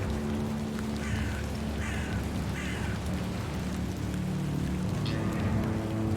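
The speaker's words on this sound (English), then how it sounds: "A crow." A crow caws a few times in short harsh bursts in the video game The Excavation of Hob's Barrow, moderately close, over a steady wash of outdoor ambience.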